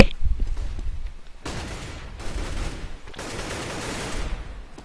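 AK rifle fire rings out during a Counter-Strike match, with bursts of rapid shots and sharp reports layered in dense, noisy stretches that pause briefly between volleys, loud and close.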